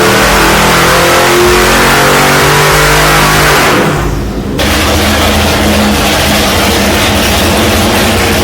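An LS2 V8 fitted with L92 heads revs loudly and close up, roaring hard, dropping briefly to near quiet around the fourth second, then surging back into sustained revving.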